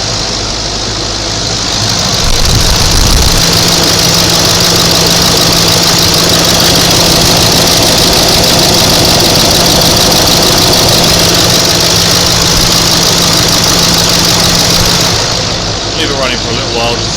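A Range Rover L322 diesel engine idles loudly and steadily at close range, a constant low rumble with a slight knocking texture, holding unchanged for most of the time before easing off near the end.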